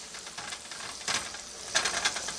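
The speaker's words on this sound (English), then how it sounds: "Get it sizzling." Shrimp sizzle in a hot frying pan with a steady crackling hiss that flares in bursts as they are stirred, heard up close with no talking.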